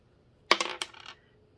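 Dice rolled for a board game clatter briefly across the board in one quick burst of small hard rattles and bounces, close and fairly loud, with silence on either side.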